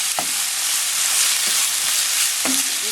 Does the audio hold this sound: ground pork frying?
yes